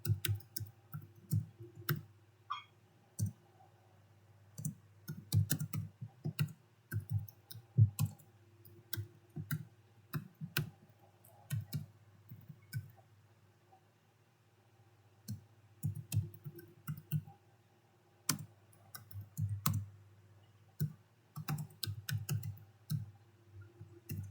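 Scattered clicking of typing on a computer keyboard while entering database parameters, light keystrokes in uneven bursts with pauses, close and fairly quiet.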